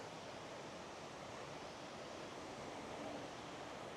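Scale Force, the Lake District's highest waterfall at about 120 feet, roars as a steady broadband rush heard at a distance, continuous and even with no voices.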